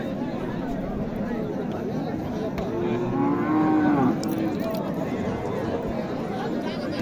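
Cattle low at a busy Naogaon village cattle market trading bulls for Qurbani, with one drawn-out moo rising midway over a steady crowd murmur and nearby talk.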